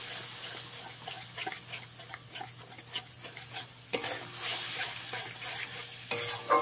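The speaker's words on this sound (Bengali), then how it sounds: "দইটা দিয়ে এইভাবে খুব ভালো করে মিশিয়ে নিতে হবে।" Okra is stirred in a pan with a yogurt and spice mixture over a low gas flame, giving a continuous soft sizzle with repeated scraping and stirring strokes, close and steady with no talking.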